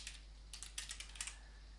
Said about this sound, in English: You'll type in your computer name, you'll type in your share name